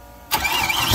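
A turbocharged 5.3 V8 swapped into a Mazda B2200 pickup cranks and fires abruptly after a moment of quiet, then settles into a loud, close rough idle.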